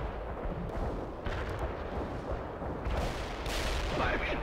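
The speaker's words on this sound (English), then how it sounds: "Fire mission confirmed. Bombard the target coordinates. Affirmative. Heavy artillery strike fired." A heavy artillery strike lands in the war strategy game World in Conflict, with repeated booming blasts and dense rumbling detonations rolling through, loud and sustained across the whole stretch.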